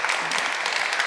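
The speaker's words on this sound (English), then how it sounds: "please give a round of applause to Her Excellency, Mr. Ambassador Arndt Freytag von Loringhove" A short burst of audience applause in a university lecture hall for an ambassador, steady and moderately loud, with no speech over it.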